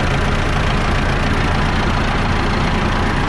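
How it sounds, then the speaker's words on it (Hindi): A diesel tractor engine idles close by, a loud, steady knocking rumble throughout with no voices. "ये आप इंजन की आवाज़ सुन सकते हो।"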